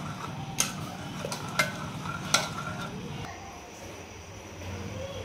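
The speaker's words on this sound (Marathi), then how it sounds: "तर थोडीशी आपण ह्याच्यामध्येच आता घोटून घेणार आहे याला." Cooked soft lentil dal being mashed and stirred in a pot, with a few sharp clicks of the utensil against the metal over a low, steady background; no talking.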